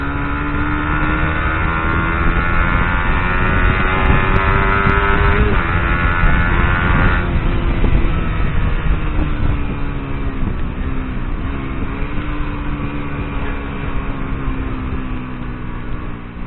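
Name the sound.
Suzuki GSX-R150 motorcycle engine revving, launch control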